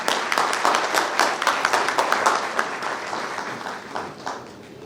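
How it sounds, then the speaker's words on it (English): Audience applause at an evening soiree in a Kolkata banquet hall, a dense wash of many hands clapping steadily for several seconds, close and loud, with a few voices faintly mixed in. "A big round of applause for our dear Sister Marisa."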